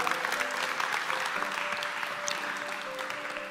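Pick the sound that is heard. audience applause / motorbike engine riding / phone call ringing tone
audience applause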